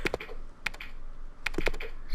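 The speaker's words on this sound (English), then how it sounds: "The sounds of me typing." Computer keyboard typing in Resident Evil Code: Veronica X, with irregular crisp keystroke clicks, some in quick pairs, close and alone over faint background hum.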